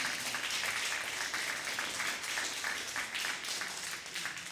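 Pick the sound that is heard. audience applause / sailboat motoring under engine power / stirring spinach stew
audience applause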